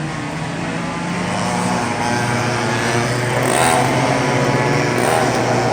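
Karts running at a vintage karting event at Brodhead, heard as a steady engine drone with a rising, revving pitch, loud and continuous, with no talk.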